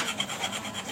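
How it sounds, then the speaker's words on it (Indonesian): A metal file rasps back and forth to smooth an edge, a close, steady run of gritty scraping strokes with a faintly pulsing rhythm and no talking. "diratain pakai kikir"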